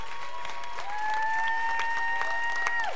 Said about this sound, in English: Can you give them a great big hand of applause right now?